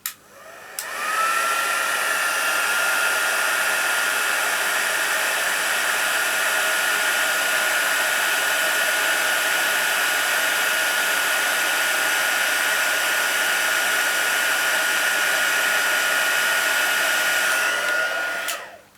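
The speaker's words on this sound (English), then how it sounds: "Close it up before I get my heat gun out, heat tool." A heat gun blows with a steady, loud whooshing roar for a long stretch, switching on abruptly and cutting off near the end.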